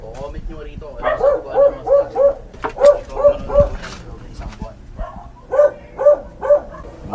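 A dog barks in three quick bursts of repeated woofs, clear and close, with short pauses between the runs and faint background noise.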